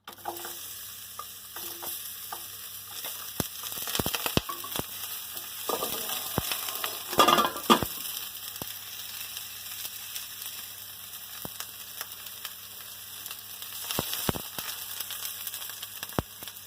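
Chopped onion sautéing in a small amount of oil spread over the bottom of a pan on medium heat, a low steady sizzle with scattered stirring scrapes and clicks, fairly quiet and without talk.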